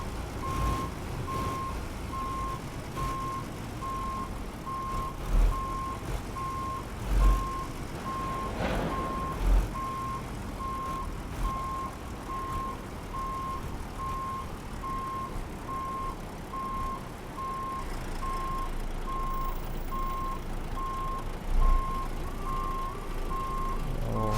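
A truck reverses in the Euro Truck Simulator 2 video game, its backup alarm beeping in a steady regular rhythm over a low engine rumble with a few soft thumps.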